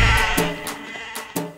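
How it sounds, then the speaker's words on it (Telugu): Sheep bleat several times in quick succession, short wavering calls rising over a steady, fairly close background with no talk. "ఆ వెనకాలే గొర్రెలు."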